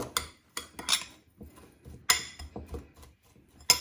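Ingredients for a crusted cod and spinach dish are mixed in a bowl, producing sharp clinks and scrapes of a utensil against the bowl in irregular bursts between quiet gaps, close by with no talking.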